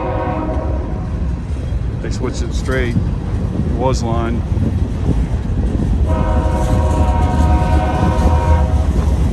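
Two trains pass at a railway crossing while a caboose whistle sounds in short blasts, followed by a long sustained horn over steady rumbling rail noise, with someone talking nearby throughout.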